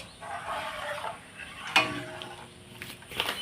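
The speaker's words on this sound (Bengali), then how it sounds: "এখানে আমি এইভাবে নেড়ে যাব অন্তত দশ মিনিট" A spoon stirs powdered milk in a pot, giving soft, steady scraping and swishing with a brighter clink of metal partway through, close and fairly quiet with no voices.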